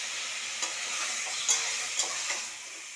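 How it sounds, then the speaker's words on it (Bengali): Mutton coated in turmeric and a little mustard oil sizzles steadily in a pan as it is stirred into onion and garlic, with a few sharp spoon scrapes cutting through the frying hiss. "এটা আমি পেঁয়াজ রসুনের মধ্যে দিয়ে ভালো করে এটাকে পেঁয়াজ রসুনটার সাথে মিশিয়ে"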